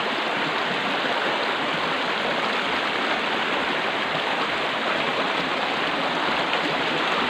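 Water rushes steadily and loudly through a channel, a dense continuous hiss and splash with no breaks, close by and alone without any voices.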